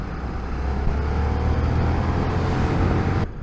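A 2024 KTM 1390 Super Duke R motorcycle held in fourth gear on a road, its engine droning steadily and loudly with rushing wind noise throughout, then dropping off abruptly at the end.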